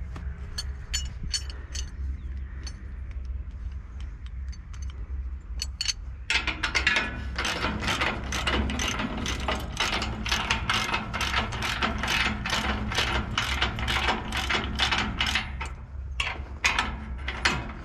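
A ratchet wrench clicks in rapid bursts while bolts are tightened on a disc plough, close and crisp over a low steady hum, quicker and denser in the second half.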